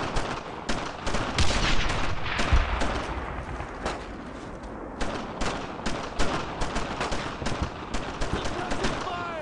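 Suppressing gunfire in the World War II video game Brothers in Arms, with dense, overlapping rifle and machine-gun shots cracking in rapid irregular bursts. Soldiers shout over the shooting.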